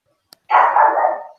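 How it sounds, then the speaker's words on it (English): A single loud, drawn-out bark from a nearby dog, preceded by a brief faint click, with no voices around it. "The dog is barking."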